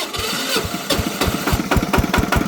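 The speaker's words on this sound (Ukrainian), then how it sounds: "Дуже часто я завожу мотоблок і просто ключом без всякого цього." Walk-behind tractor engine started with the key: the small engine catches and runs with loud, rapid, uneven firing pulses, close by and without talk.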